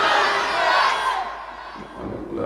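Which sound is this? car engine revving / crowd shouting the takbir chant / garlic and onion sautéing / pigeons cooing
crowd shouting the takbir chant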